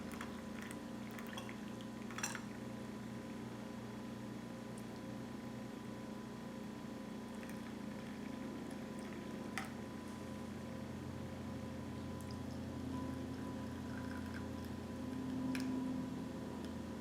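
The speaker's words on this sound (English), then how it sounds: "I'm going to make sure that I pour exactly the same amount of water." A steady, soft stream of water pouring into tea cups, with faint ticks and clinks in the background and a slight swell near the end.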